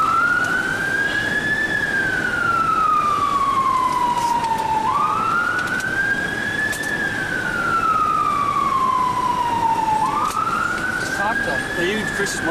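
A rising and falling wail from an emergency vehicle siren, loud and steady, sweeping up and down in long slow cycles that repeat about three times.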